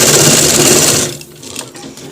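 Sewing machine running a line of stitching on trousers, a loud fast buzzing whir for about a second that then stops, leaving a quieter stretch with a voice speaking.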